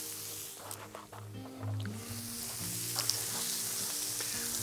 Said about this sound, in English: So I'm now sizzling the scallops.